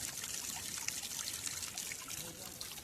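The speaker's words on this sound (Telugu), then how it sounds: "ఈ పంపు దగ్గర నేను వాటర్ పట్టి చూపిస్తా మీకు." Water runs from a hand pump on a mountain trek route in Uttarakhand, making a steady close trickle and splash that barely changes over the few seconds.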